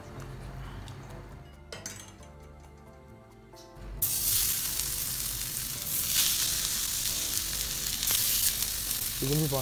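Salmon marinated in turmeric, chili and pepper powder is laid in a hot pan and bursts into a loud, steady sizzle after a quieter start with a few clinks of utensils.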